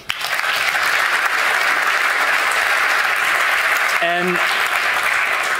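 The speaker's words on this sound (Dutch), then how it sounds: "Mag hij een applaus?" A large audience applauds steadily and loudly as a football magazine's editor-in-chief is called to the front at a Dutch panel event on the future of football, with a brief voice rising above the clapping near the end.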